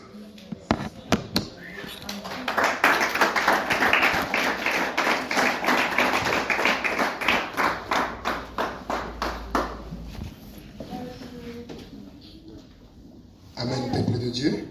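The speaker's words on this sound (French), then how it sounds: "Ça, ce sont des acclamations pour la chorale." A church congregation claps for the choir in rhythmic, evenly spaced beats that build and then fade, with voices speaking before and after the clapping.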